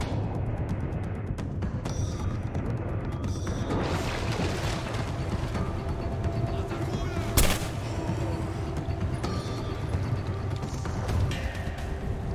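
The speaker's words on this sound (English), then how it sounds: "shotgun." Shotgun fire in a game set in a Soviet time-travel shooter, with repeated loud blasts and mechanical clatter over a dense, busy rumble of battle noise, one sharp shot standing out midway.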